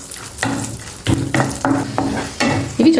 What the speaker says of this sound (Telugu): సిమ్లో పెట్టుకుని చక్కగా వేయించుకోండి.